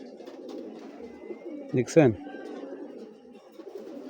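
A pied female racing pigeon coos in a low, steady murmur close by, while someone speaks briefly over it and a sharp handling sound or flap breaks in near the middle.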